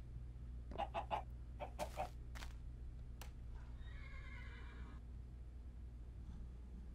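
Minecraft chicken clucks in short bursts near the start, mixed with whinny-like game animal calls over a steady low ambient hum, with no talk.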